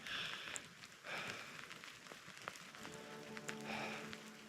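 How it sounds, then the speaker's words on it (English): Rain patters steadily on surfaces at a campsite during a winter snowstorm mixed with freezing rain, a faint continuous hiss with scattered sharper drops close by. "It's really going back and forth between snow, freezing rain, and rain."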